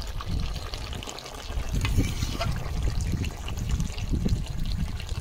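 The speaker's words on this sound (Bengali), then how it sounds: "জল দিয়ে দিচ্ছি" Water pours into a pot of Hyderabadi chicken curry with cooked meat and potatoes, giving a close, continuous trickling splash that holds steady throughout with slight surges.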